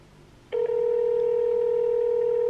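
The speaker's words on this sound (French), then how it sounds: "Ah, ça change de sonnerie, là" A telephone tone abruptly switches to a steady, loud electronic ringing tone that holds without a break.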